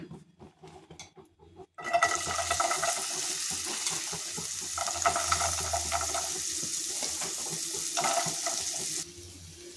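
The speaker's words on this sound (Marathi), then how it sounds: "तर आपण भेंडी भाजून घेऊया।" Okra frying in hot oil in a pan, a loud steady sizzle that bursts in after a short quiet lead-in and crackles on for several seconds before easing off near the end.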